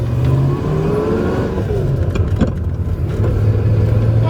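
A car pulls away with a newly acquired driver at the wheel, its mid-pitched engine droning and revving steadily up close, holding a continuous loud note with a slight rise and fall and no talk.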